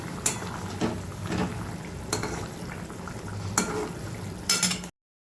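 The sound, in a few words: stirring simmering fish curry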